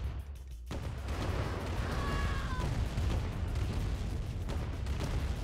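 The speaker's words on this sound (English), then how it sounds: "Our base is under attack" Sustained battlefield din in Command & Conquer Remastered as the base comes under attack, dense rumbling gunfire and explosions filling the whole stretch with a brief chirping tone partway through, no talk.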